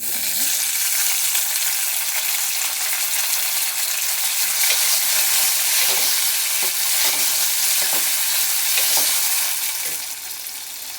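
Steady sizzling and frying of tomatoes in a pan with a few soft scrapes of stirring, for a Mangalore-style fish curry, continuous and close, no voices.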